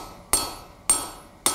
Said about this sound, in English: What I'm also doing is hammering and pulling my hammer blow over to the edge.